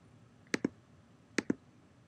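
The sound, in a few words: mouse clicking in Logger Pro software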